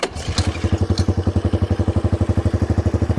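Honda ATC 125M three-wheeler engine firing up after sitting unused for about ten years, settling quickly into a steady, loud, close idle with rapid, even popping exhaust pulses.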